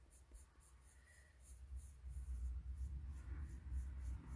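Colored pencils work across paper in soft, rhythmic scratching strokes, a quiet close scraping that continues steadily over faint background rumble.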